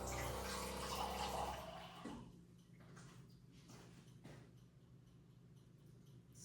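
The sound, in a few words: pouring a little water into an oven dish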